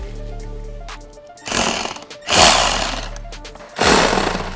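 A power drill whines in three bursts, each rising to a loud grinding roar as it bites into a box, with short pauses between.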